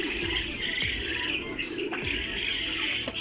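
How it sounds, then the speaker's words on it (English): Small caged birds kept for sale at a farm near Riyadh, Saudi Arabia, chirping and cooing continuously at moderate volume, with a few soft knocks mixed in. "These birds are so cute. Look at this white one."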